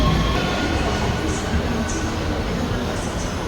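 A local double-decker passenger train in Israel rumbles steadily, its low, continuous running noise filling the space with faint higher squeaks now and then, close and fairly loud.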